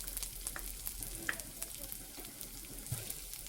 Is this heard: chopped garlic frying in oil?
yes